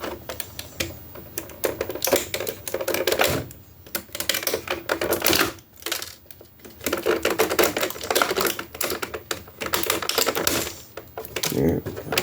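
Snipping plastic ties off a NECA Disney Gargoyles Demona action figure package: a run of small crisp clicks and rustling plastic scraping near the microphone, with brief quieter gaps.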